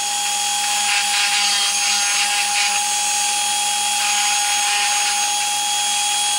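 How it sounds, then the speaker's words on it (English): A Dremel rotary tool with a grinding bit smooths excess wood fibers on jointed wooden doll parts, giving a steady, close, continuous high whine with rough scraping that holds evenly throughout, no voices. "take away some of the excess fibers of wood with my grinding tool on my Dremel"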